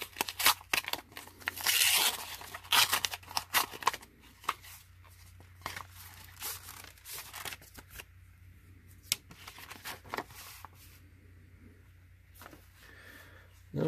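A thick, medium-sized mail envelope being handled and torn open, with close crinkling, ripping and rustling paper sounds in irregular bursts, busiest at the start and then quieter handling with scattered crackles.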